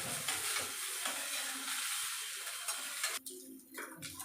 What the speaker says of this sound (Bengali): সেটাই এখন ভাজা হবে